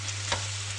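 Venison chops frying in a pan as they are turned, a soft steady sizzle with a brief scraping flick at the turn, low and close with a faint hum beneath.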